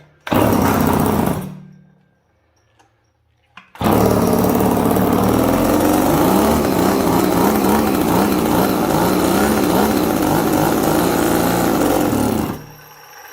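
A McCulloch chainsaw engine with no chain fitted, its clutch spinning freely, fires briefly and dies, then restarts after a short silence and runs loud and steady at a high buzzing pitch for about nine seconds before cutting off.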